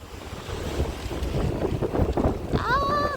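Strong wind gusts buffet the microphone outdoors in a steady roar, with a brief high whistling tone near the end.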